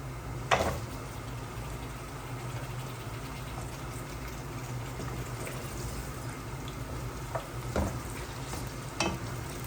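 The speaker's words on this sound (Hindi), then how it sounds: "अब हम इसमें मटन ऐड कर देंगे।" Mutton pieces fry with browned onions in a pot for qorma, a steady moderate sizzle with occasional spoon scrapes and clatters, no one speaking.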